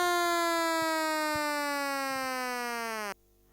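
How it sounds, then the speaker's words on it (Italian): Long siren at a horse race track, sounding while the official finishing order is held pending. A single loud, sustained wail that slowly drops in pitch, then cuts off sharply near the end, with no talk. "c'è però la sirena che tiene tutto in sospeso"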